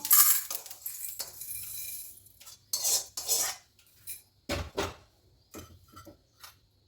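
Roasted sesame seeds poured into a bowl in a kitchen while making a coriander and tamarind chutney, giving a dry rattling rush followed by a string of short clinks and taps of a spoon against the bowl.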